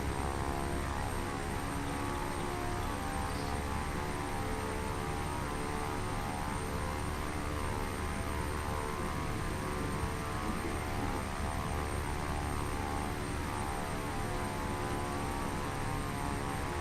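Engine of a Beechcraft King Air propeller plane in the Prepar3D flight simulator during a low-altitude flight, a constant loud broadband drone with steady tonal hum, unbroken and without speech.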